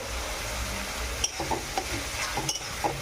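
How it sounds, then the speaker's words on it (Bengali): Onions fry in oil in a pan for a home-made chicken curry, a steady close sizzle broken by several scraping stirs of a spatula. "এবার পেঁয়াজটা ভাজা হবে।"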